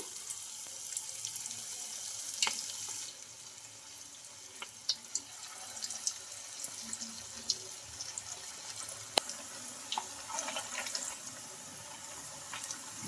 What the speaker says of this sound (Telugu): ఇలా బాగా క్రిస్పీగా ఫ్రై చేసుకోవాలి ఇంకా మిగతా వాటిని కూడా ఆయిల్లోకి అయితే వేసుకుంటున్నాను